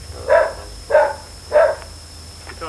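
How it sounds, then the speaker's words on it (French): A dog gives three evenly spaced barks at moderate distance in a quiet rural setting, with a faint, fainter sound trailing at the end. "C'est ton chien là."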